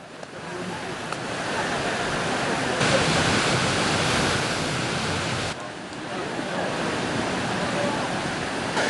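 The waterfall cascades of Zondey roar as a dense, continuous wash of falling water, loud and steady, swelling slightly midway, with no voices standing out above it.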